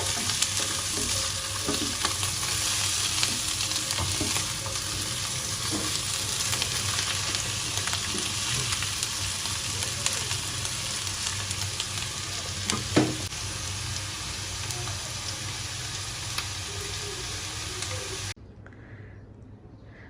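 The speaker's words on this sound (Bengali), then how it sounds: "তো আজকে আলু ভাজি করছি" Potatoes fry for aloo bhaji in a hot pan, producing a loud, continuous sizzle with stirring clicks and scrapes that cuts off abruptly near the end. No one speaks.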